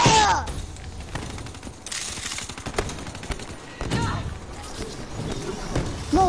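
Shotgun blasts ring out in a video game firefight as a series of sharp, irregular bangs among other gunfire, with talking heard now and then between shots.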